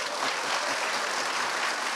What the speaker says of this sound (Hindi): तालियां तो बजिए लेकिन ज़रा इस तरह से इस्तबाल हो आप दोनों का